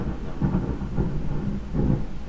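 Rumbling thunder from a storm outside rolls in low, broad swells, rising around the middle and again toward the end, steady and moderately loud with no voices.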